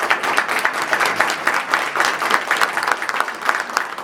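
An audience at a Nashville policy event claps warmly for the speaker Ralph, a dense, loud wash of applause from a room full of people that carries on steadily throughout.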